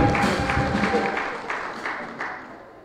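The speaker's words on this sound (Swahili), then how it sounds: "Kama tuna furaha tushangilie, tumpigie Yesu makofi" A church congregation claps for Jesus during worship, with steady, rhythmic hand claps filling the room in a dense, lively wash.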